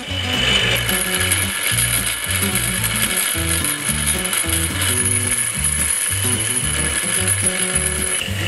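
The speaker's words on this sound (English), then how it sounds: "I'm putting it on an angle so the action of the grinder makes that spin." An angle grinder is held at an angle against a billet intake runner so the part spins like a lathe. A continuous close whine carries a fast, rhythmic mechanical rattle throughout, loud and steady with no talking.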